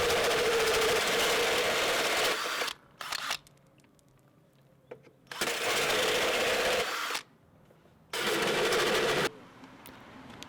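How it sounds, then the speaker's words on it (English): A hole saw cuts final holes through mast material with lubricant applied, giving loud sustained grinding bursts of a few seconds each, separated by quieter pauses with faint handling noise. "The next step is to cut the final holes with a hole saw, and again we use lubricant for a clean cut."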